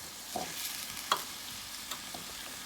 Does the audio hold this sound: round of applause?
no